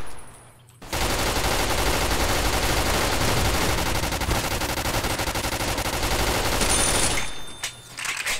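Rapid sustained automatic gunfire in the video game Fallout New Vegas, a loud, dense unbroken stream of shots lasting several seconds before cutting off abruptly.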